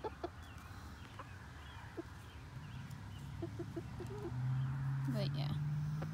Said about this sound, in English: They sound like chickens now, not babies.